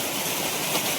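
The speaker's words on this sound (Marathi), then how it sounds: "आणि हा धबधबा बघा कसला भारी आहे." A waterfall in the Konkan countryside at night, heard during a crab-catching trip: a steady, broad rush of falling water, close and continuous with no talking.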